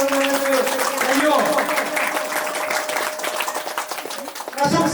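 Applause from the audience at a Nepali kirtan group's annual honors program at Dhaneswar temple, a steady crowd clapping that holds for several seconds over a musical drone, then briefly drops and swells again.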